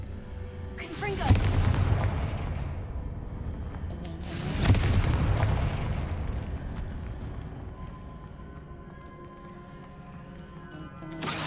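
Two heavy booming Confringo spell explosions in a Harry Potter video game, each a loud sudden blast with a long rumbling decay, followed by quieter game ambience.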